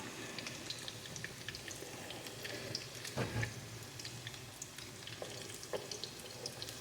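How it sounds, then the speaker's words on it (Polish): Soft, steady sizzling of minced chicken cutlets frying in a pan, fairly quiet, with a faint clatter partway through. "teraz smażymy sobie e, z każdej strony na rumiano"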